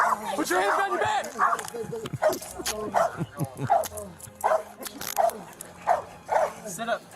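A police K9 dog barks and yips in short repeated bursts amid an arrest scene, with officers talking loudly over and between the barks throughout.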